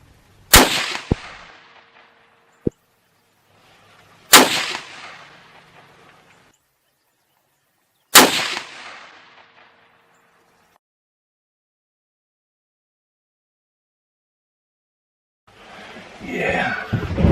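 Three loud, sharp rifle shots from a .338 Win Mag during a Texas hog hunt, spaced about four seconds apart, each cracking close and decaying into a short rolling echo, followed by an unrelated rustle near the end.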